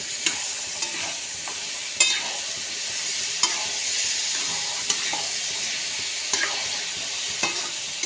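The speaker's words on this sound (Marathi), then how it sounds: "यामध्ये आपण दोडका घालून घेऊया सर्वच आपण चिरून घेतलेला धुवून घेतलेला स्वच्छ दोडका ॲड करूया यामध्ये छान असा परतून घेऊया" Chopped ridge gourd sautés in a pan, a steady sizzle broken by regular scraping stirs and sharp spatula taps against the metal.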